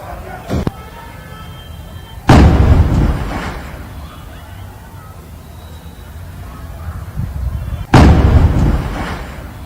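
Gas cylinder explosions go off one after another in Rajasthan: a sharp crack, then two heavy booms several seconds apart, each rumbling away amid faint background noise.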